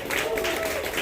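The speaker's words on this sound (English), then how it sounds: "give him a round of applause" Audience applause at a literary reading event, a brief burst of clapping mixed with voices.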